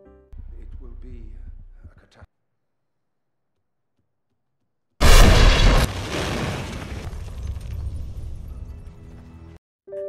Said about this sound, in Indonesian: Dan tak lama kemudian, bom yang disiapkan pun meledak.